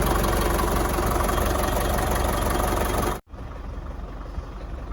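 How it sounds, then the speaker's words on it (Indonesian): A vehicle engine idles nearby with a steady, loud, even drone that cuts out abruptly for a moment near the end and then resumes slightly quieter. "Suara mesinnya ini sangat unik, untuk operasional cocok."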